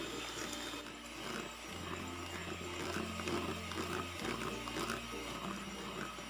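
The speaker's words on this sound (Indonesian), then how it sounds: "Ini saya mixer selama kurang lebih 7 menit atau hingga adonannya itu benar-benar mengembang, putih kental dan berjejak." An electric mixer whips egg batter for kue putu ayu, a steady close whirring drone whose pitch shifts in stepped changes as the beaters work, with no talking.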